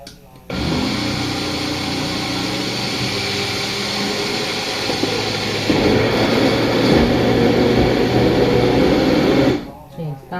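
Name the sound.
Magic Bullet blender blending hemp milk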